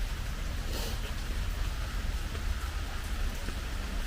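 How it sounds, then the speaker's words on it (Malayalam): Rain falls steadily outdoors in Kerala during heavy monsoon weather, a moderate, continuous patter and hiss of drops on surfaces, somewhat faint and without any talking. "പിന്നെ അടുത്ത മഴ തുടങ്ങി കേട്ടോ."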